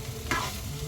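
Onions for chicken masala frying in a pan, a soft steady sizzle with one brief scrape of stirring, heard alone at low volume.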